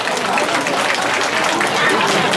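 An audience at a Lunar New Year gala in Vancouver claps in a dense, continuous wash of applause that holds steady for a couple of seconds, filling the hall.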